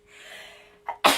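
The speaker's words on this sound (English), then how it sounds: "I'm going to sneeze." A person sneezes once at close range, with a short quiet inhale, then a brief catch of breath and a loud explosive burst, after a stretch of faint room hiss.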